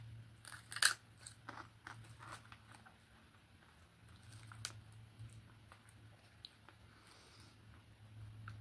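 Crisp, hollow snack chips being bitten and chewed close up, a few sharp crunches early followed by quieter intermittent chewing over a low steady hum.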